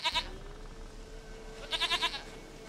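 A goat in the video game The Witcher 3 lets out two short, wavering bleats, one at the start and another a moment later, close and clear over quiet ambient game sound.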